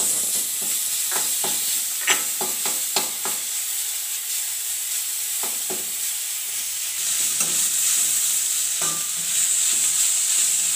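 Green chilli, ginger and garlic being sautéed in a pan, with a steady frying sizzle and repeated scraping stir strokes, louder in bursts in the first few seconds and then more sparse, with no talk.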